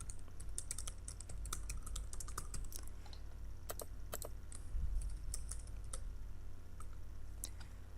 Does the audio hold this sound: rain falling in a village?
no